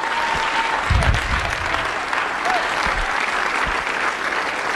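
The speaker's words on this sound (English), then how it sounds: "give Jesus a mighty hand clap all over this place" A church congregation at a conference claps steadily and loudly in worship, a continuous wash of hand claps with a few low thumps and faint vocal exclamations mixed in.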